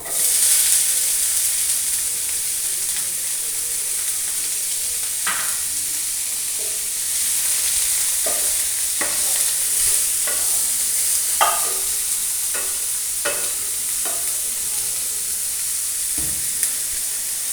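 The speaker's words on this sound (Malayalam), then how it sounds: "ഇനി ഇതിനകത്തേക്ക് നമ്മൾ കട്ട് ചെയ്ത് വെച്ചേക്കുന്ന ഉള്ളി ഇടാം." Chopped onions hit hot oil in a pan and are stirred, giving a steady bright sizzle with repeated scraping and stirring strokes throughout, close by and without speech.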